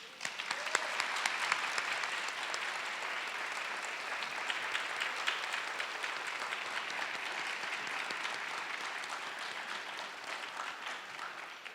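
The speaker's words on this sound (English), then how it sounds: "give another round of applause to our scholarship recipients as well as the honorees" A large gala audience applauds scholarship recipients and honorees with steady, continuous clapping that stays even and full throughout, with no speech over it.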